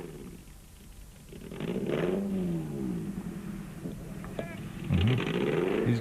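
A rally car engine at the 1998 Tarkastad 400 revs unevenly in rising and falling surges while the driver struggles to select a gear, moderately distant, with commentary talking over it.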